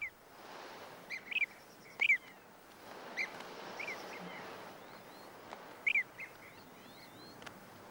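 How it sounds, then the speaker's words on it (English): Blue-cheeked bee-eaters call across a quiet desert at sunrise, with several short, rolling, chirping notes in scattered bursts over a faint, steady background hiss, fairly distant and soft. "Blue-cheeked bee-eaters, one of our most exotic birds."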